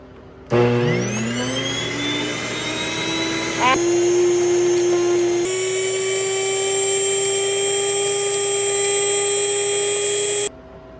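An electric grain mill grinds grain into fine flour with a loud, steady whine that rises as it spins up, shifts pitch partway through, then stops abruptly.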